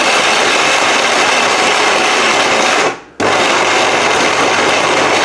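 A Vision 850-watt heavy-duty blender mincing meat, running with a loud, steady high-pitched motor whine that cuts out briefly near the middle and then starts again at full speed.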